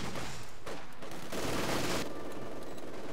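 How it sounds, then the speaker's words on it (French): Suppressing machine-gun fire in the WWII strategy game Company of Heroes, a dense steady crackle of rapid automatic shots, with a louder burst in the middle of the volley. "On subit un tir de suppression."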